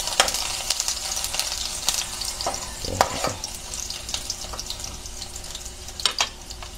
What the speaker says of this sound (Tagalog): Gisa tayo ng bawang muna.